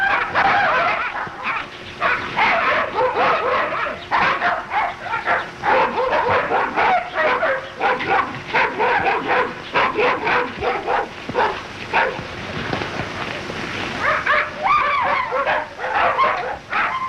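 Several dogs bark and yip excitedly at an iguana, a dense run of sharp, overlapping yaps and whimpers that keeps going with only brief pauses.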